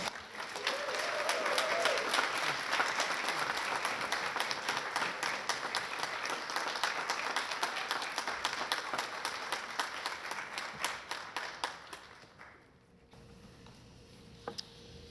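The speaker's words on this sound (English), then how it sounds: "So give them a huge round of applause." An audience at a police department awards ceremony applauds, dense steady clapping from a crowd heard at moderate distance. The clapping tapers off near the end and gives way to a quieter room.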